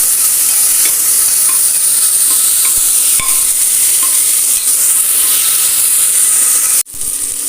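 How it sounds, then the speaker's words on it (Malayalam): Tomato sautéing with garlic in a hot pan for cooker sambar rice, a steady loud sizzle with occasional scrapes and clinks of a spoon stirring, ending in a brief sharp knock. "ഒരു വലിയ തക്കാളി ഇട്ട് അതൊന്ന് വഴറ്റിയെടുക്കാം"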